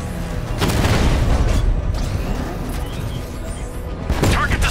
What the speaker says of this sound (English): If I can get a visual on the tank's weak point, I can hit from long range with the missile barrage.